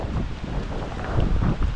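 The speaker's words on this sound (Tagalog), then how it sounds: "Malakas ang hangin." Strong wind buffets the microphone outdoors in bright sun, a steady low rumbling roar with louder gusts toward the end and no talk.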